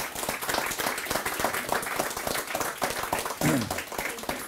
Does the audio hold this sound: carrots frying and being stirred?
no